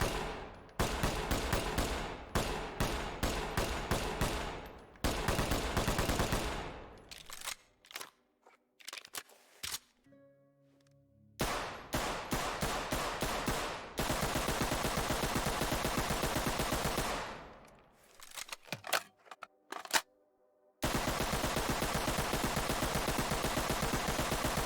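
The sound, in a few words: modded RPD machine gun firing in video game Ready or Not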